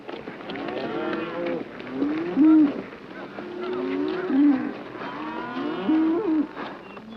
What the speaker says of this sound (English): Robards drives his cattle across James Caan's grazing land as the film's main battle begins to heat up